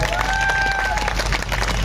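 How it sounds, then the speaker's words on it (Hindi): An audience at an RCM Business event applauds Ajit Pratap sir, with dense, steady clapping from a crowd filling the hall and a faint tonal whistle at the start. "एक बार मैं सर के लिए जोरदार ताली बजाऊं।"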